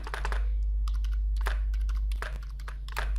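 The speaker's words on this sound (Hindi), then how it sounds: "यहाँ पर हमने कोई डाटा टाइप किया, ये मैंने डाटा टाइप किया" Data being typed on a computer keyboard in a Microsoft Office session, a close series of clattering keystrokes in quick bursts over a low steady hum, with no talking.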